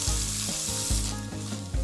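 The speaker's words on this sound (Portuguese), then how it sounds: "vai começar fritando aqui as linguiças" Sausages frying in olive oil in a pan, a steady loud sizzle with regular stirring scrapes roughly every half second, close up with no voices.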